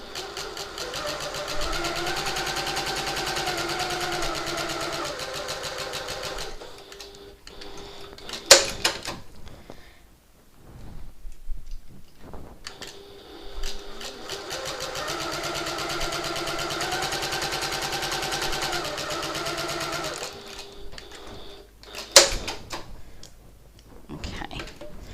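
A sewing machine runs in two long steady bursts of whirring, rapid stitching on a reversible hobo bag, sewing just inside a marked line, separated by a pause with clicks and handling noise.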